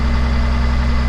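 A diesel engine idling after being restarted, a loud, close, steady low rumble with an even mechanical throb and no voices.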